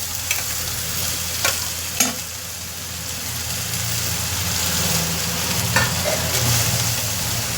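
Grated coconut stirred and fried in a pan for a prawn chammanthi, giving a continuous close sizzle broken by a few sharp scraping clacks of the spoon, with no talking.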